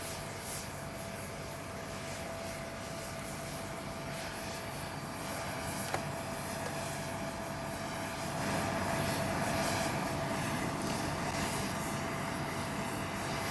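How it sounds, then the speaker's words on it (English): Engines of an Air Force plane normally used as an alternate to Air Force One, at an air force base during a presidential funeral: a steady, loud jet roar that swells slightly toward the end, with no talk. "This plane, normally used as an alternate to Air Force One"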